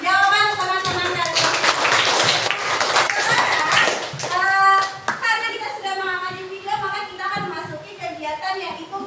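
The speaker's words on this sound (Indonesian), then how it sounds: "Tepuk tangan untuk jawaban teman-teman kalian" A classroom of children claps for classmates' answers, hand claps massed and fairly close, mixed with kids' voices and a teacher talking over the noise.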